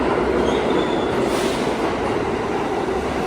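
A New York subway train roars steadily close by, a loud continuous rumble with faint wheel squeal rising midway and no voices.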